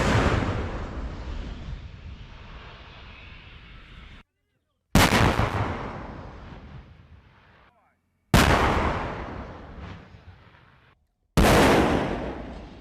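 Tank and mortar fire on a battlefield in eastern Ukraine, with T-72 tanks attacking an armoured unit: four loud, heavy booms a few seconds apart, each rolling away in a long echoing decay between short silences.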